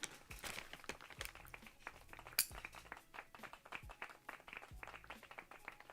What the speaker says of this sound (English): Clap it.